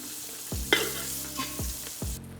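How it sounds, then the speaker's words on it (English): Sausage browning in a frying pan for Cajun potato and sausage soup, with a steady sizzle and three sharp scrapes of a utensil against the pan, heard up close with no talking. "Just wanna brown them a little bit."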